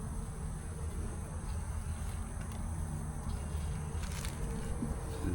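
Honey bees buzz around an open mating nuc hive, a soft, steady insect drone that hums continuously in the background at low volume, with no talking.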